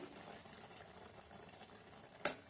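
Indian gooseberry chunda simmers quietly in a pan with a soft, steady bubbling hiss, then a single sharp click near the end.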